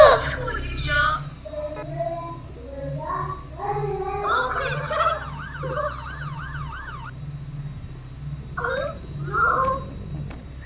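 A wavering fire truck siren wails from a video game, rising and falling for a few seconds, while people talk loudly over it.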